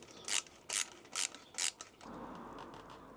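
Ratchet cranking radiator fixing bolts on an Africa Twin motorcycle during a build, four short bright ratcheting bursts evenly spaced, close and alone, followed by a steadier low mechanical rasp.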